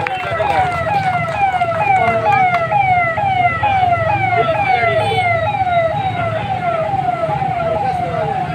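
A police patrol vehicle's siren wails in rapid repeated rising sweeps, loud and steady for several seconds at an outdoor election rally, with crowd noise and a voice underneath.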